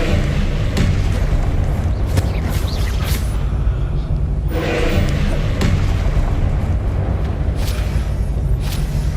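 Repeated booming Confringo spell blasts in Hogwarts Legacy, several heavy thuds and bursts going off amid dense, continuous game combat noise with no pause between them.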